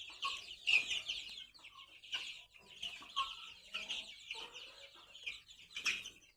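Chickens and small chicks on a goat and poultry farm cluck and chirp in a steady, busy chatter, with several nearby birds calling over and over.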